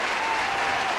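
Studio audience applause on a talk show, a dense, even roar of clapping hands that holds at full strength for the whole moment, with no talk over it.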